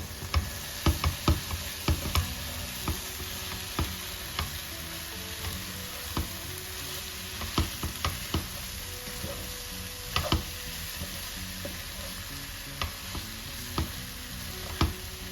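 Mallow (ebegümeci) cooking with salt in a pot makes a steady soft sizzle, with scattered spoon clicks and taps against the pot as it is stirred, and no talking.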